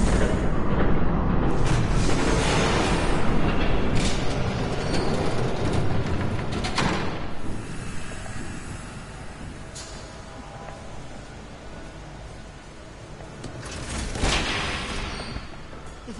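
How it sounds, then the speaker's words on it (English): In a Batman Telltale Series game scene, a train thunders past with a continuous loud rumbling roar, clattering bursts and a swell near the end. "There's a train coming. Take cover."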